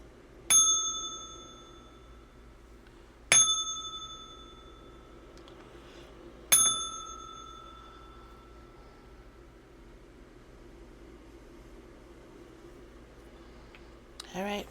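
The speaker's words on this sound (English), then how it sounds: "I'm going to ring the bell 3 times" A small bell rings three times in slow, evenly spaced strikes, each a bright clear ding that decays over a couple of seconds, alone against a quiet room.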